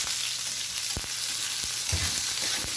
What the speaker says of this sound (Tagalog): Igisa na rin natin yung sahog.